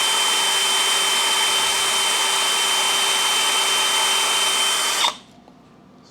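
A Lagun FT-1S vertical mill drills into metal with a loud, steady, high whine that holds for several seconds, then cuts off abruptly into quiet.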